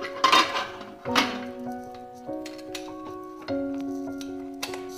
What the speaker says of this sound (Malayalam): നമുക്ക് ഈ കുക്കറൊന്ന് മൂടി